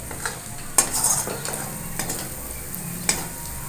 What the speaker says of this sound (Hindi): इसके हम अच्छे से भूजेंगे, इसके हम गोल्डन ब्राउन तक भूजेंगे।